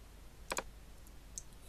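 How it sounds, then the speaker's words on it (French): Two quick clicks of the Delete key on a computer keyboard sound close together, with one fainter click a moment later against quiet room tone. "je peux de nouveau aussi effacer à l'aide de la touche Delete de mon clavier"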